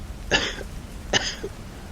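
A woman coughs twice in short bursts about a second apart, close and moderately loud, in a quiet setting with faint background noise.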